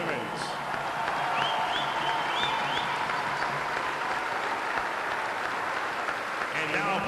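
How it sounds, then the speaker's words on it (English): An arena crowd at a college hockey championship applauds Sacred Heart's team, with broad, steady clapping and a crowd roar throughout. Faint whistle-like tones rise above the applause now and then. "a round of applause for Sacred Heart for their great season and an outstanding run in the tournament"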